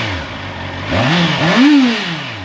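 A Honda CBR650R sport motorcycle with E-Clutch revving up close, its engine note climbing in two quick blips from a low idle, loud and alone.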